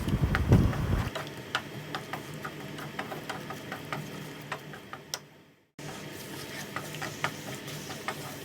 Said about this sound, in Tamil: கொஞ்சமாக தண்ணி விட்டு நல்லா அதை கொதிக்க விடுங்க